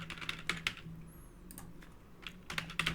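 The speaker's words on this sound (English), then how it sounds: "let me start typing over here" Typing on a computer keyboard: scattered clicks in short bursts with pauses between, close and moderately loud over a faint steady hum, with no speech.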